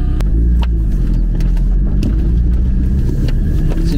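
A car engine runs loud and close with a steady low rumble after the key is turned, holding an even idle throughout without clear rises in revs.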